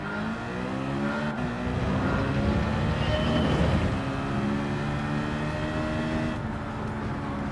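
Race car engine in Gran Turismo 7 climbing through the gears, a loud, steady high-pitched drone rising in pitch, dropping briefly at each shift and rising again, with no talking.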